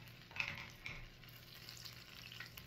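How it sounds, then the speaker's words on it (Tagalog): Chicken pieces browning over moderate heat in olive oil and butter for chicken piccata give a faint, steady sizzle with a few soft stirring scrapes near the start and no talking. "Iprito nyo siya ng medyo brown. Medyo heat lang."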